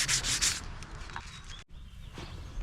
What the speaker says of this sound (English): Now I'm gonna block it smooth with some 180 grit sandpaper to make sure I flatten out all the imperfections.